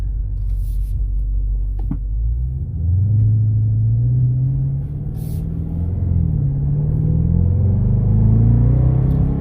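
A 2018 Dodge Charger R/T with a 5.7L Hemi V8 accelerates at half throttle from inside the car, a loud low engine rumble climbing steadily in pitch through the gears, with no talk.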